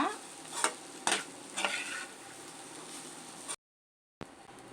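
Burnt garlic fried rice being stirred and tossed in a hot pan, with a steady sizzle and a few louder scraping strokes. The sound cuts out briefly near the end, then the sizzle returns.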